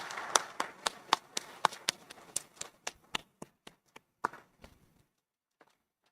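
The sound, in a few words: audience applause for event sponsors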